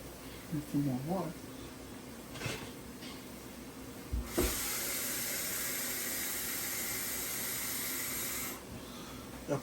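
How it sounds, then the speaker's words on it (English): Water pours into a cooking pot for ackee and salt fish with dumplings in a Jamaican-style kitchen, a steady hissing splash for about four seconds, nearby, with a voice speaking before it. "I put a little more water in the pot."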